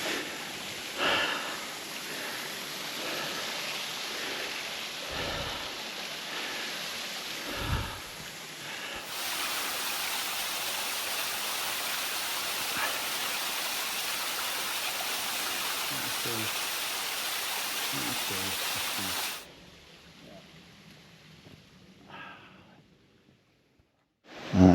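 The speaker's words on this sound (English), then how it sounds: "Middle Black Clough Waterfall." Steady rushing of Middle Black Clough Waterfall on Bleaklow fills most of the recording, with occasional close sniffs and handling bumps, then the flow drops away to quiet near the end.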